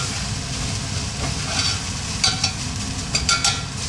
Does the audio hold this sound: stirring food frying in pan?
yes